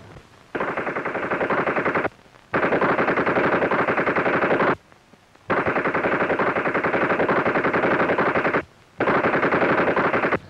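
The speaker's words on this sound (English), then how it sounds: "What's all the shooting about? Machine gun practice." Machine gun practice, heard as long sustained bursts of rapid automatic fire, loud and close, broken by three short pauses, with no talking.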